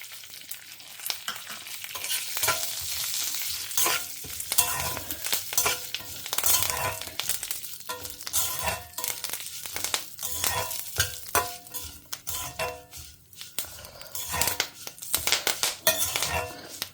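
Curry leaves being stir-fried in a pan, loud close crackling sizzle broken by rhythmic metallic scrapes and clinks of a ladle against the vessel.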